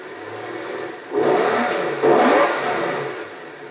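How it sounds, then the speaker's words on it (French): A Maserati Levante S engine in Forza Horizon 4 revs in two rising surges over a steady droning hum, loud and close, with no talk. "Honnêtement, c'est la première fois que j'entends le bruit du moteur."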